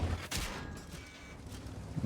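Tank cannon shots in World of Tanks, a heavy booming blast at the start and another about a third of a second later, each with a rumbling tail that fades out.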